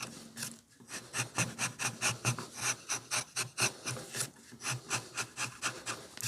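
Steel gouge cutting into wood while carving a face's eyes, a rapid run of short rasping, scraping strokes repeating steadily and close by, with no voices.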